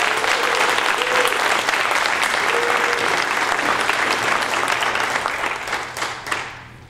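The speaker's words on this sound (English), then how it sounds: "Let's give her a round of applause." An audience at a startup conference applauds, dense steady clapping that fills the room for several seconds with a few cheers, then tapers off.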